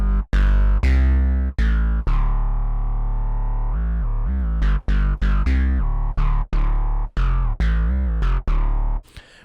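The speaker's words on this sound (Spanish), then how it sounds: "Vamos a poner una distorsión fuerte." A synth bass made in Vital runs through heavy distortion, playing loud, gritty, buzzing notes in a choppy rhythm of short stabs and longer held tones, with brief gaps between them.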